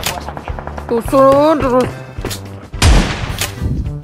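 Gunfire in the mobile battle-royale game PUBG Mobile: a rapid string of close, sharp shots and bursts runs throughout, with one heavy blast toward the end, while a player talks excitedly over the firing.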